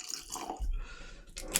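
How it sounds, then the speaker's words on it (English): Aberlour 18 whisky is poured into a glass in a short, soft trickle with a small splash near the end, quiet and close, with no voices. "We'll just do the pour here today."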